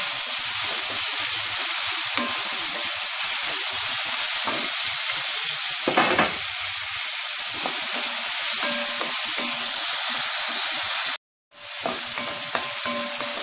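Vegetables sizzle and fry steadily in a pan while cooking creamy wheat pasta, a continuous close hiss with occasional stirring scrapes and a brief dropout near the end, no voices.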